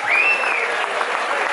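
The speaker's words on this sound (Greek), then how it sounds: "Ένα χειροκρότημα και στον Αντώνη το Λέτσιο" Audience applause at a 50th anniversary Damasiakos festival celebration, a dense burst of clapping from a crowd, steady and fairly loud.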